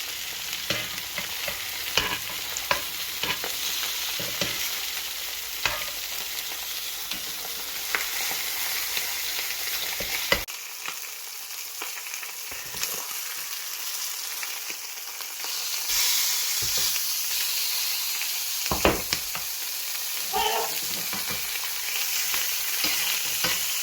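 Fish sears in a Matfer Bourgeat carbon steel skillet, a steady close sizzle and crackle of frying that goes on throughout, with a few brief clicks and scrapes as the fillets are handled.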